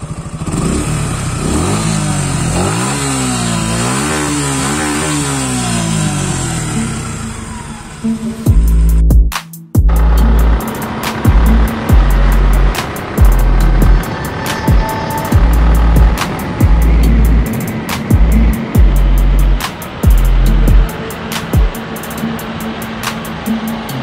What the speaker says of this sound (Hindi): राइडिंग पे जाने से पहले आपको जो एग्जॉस्ट साउंड सुना देता हूँ इसका।